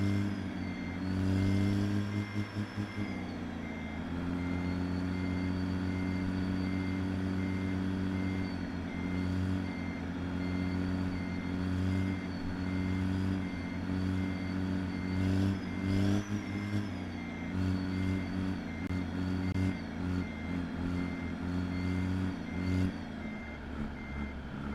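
A Peterbilt 389 fat roof sleeper truck in American Truck Simulator, backing up with a steady, evenly spaced reversing beep over its loud idling diesel engine, which revs a few times along the way.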